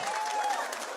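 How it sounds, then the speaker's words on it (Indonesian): Audience applause at a Balinese comedy show as the next singer is introduced, a brief burst of dense clapping that sounds steady and fairly close. "tepuk tangan yang mulia untuk Lola"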